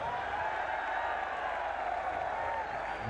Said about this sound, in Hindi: जरा हाथ उठाकर तालियों की गूंज में बताइए कि आप इमरान खान से कितना प्यार करते हैं